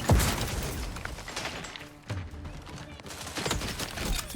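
Gunfire in the video game The Outer Worlds 2, a dense continuous barrage of shots and impacts with a brief lull midway, loud and busy throughout.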